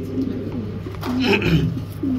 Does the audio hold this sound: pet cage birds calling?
yes